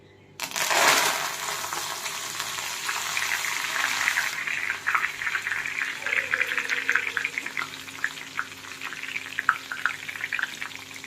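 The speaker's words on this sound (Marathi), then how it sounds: "मी कोथिंबीर यामध्ये टाकणार आहे आणि ही कोथिंबीर तळून घेणार आहोत" Coriander leaves drop into hot oil with a sudden loud hiss, then settle into a steady, crackling sizzle of frying that continues near and bright for the rest of the clip.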